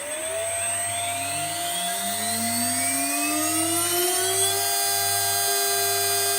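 An HSD CNC router spindle driven by a 400 Hz VFD spins up to 24,000 RPM, its whine climbing smoothly in pitch and then holding a steady high tone, close and continuous.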